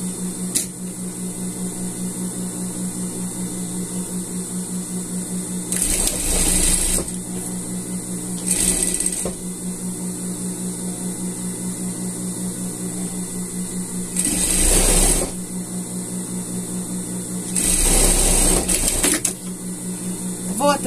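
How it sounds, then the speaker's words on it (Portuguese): A sewing machine stitches a seam on a men's sweater, sounding in several short bursts spread over a constant electrical hum, with quiet pauses between the runs. "E vamos passar uma costura até aqui embaixo."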